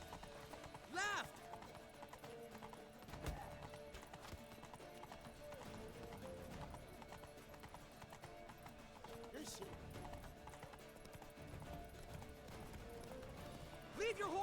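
Horse hooves clip-clop at a gallop in The Witcher 3, a steady rhythmic run heard under game music and shouted voices, with a brief whinny near the start.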